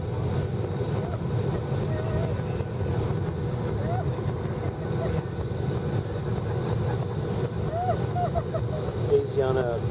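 A United Airlines Boeing 737-800 landing at San Francisco International produces a steady jet engine roar throughout, heard from inside a vehicle with road rumble and people chatting over the drone.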